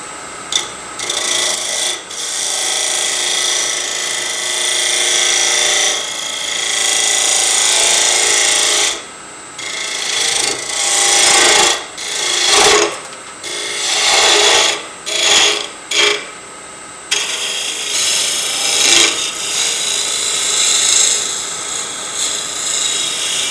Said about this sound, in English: So I'm going to take my spindle gouge.